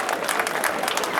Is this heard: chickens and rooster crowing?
no